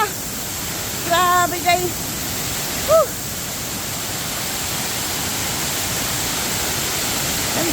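Kambal Busay waterfall in Bulusan, Sorsogon pours steadily as a broad, constant rushing roar, with a voice exclaiming briefly over it near the start.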